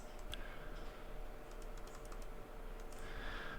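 Light, sparse keyboard taps come from a computer being used for a trading platform, set against a steady low electrical hum and room noise, with no speech.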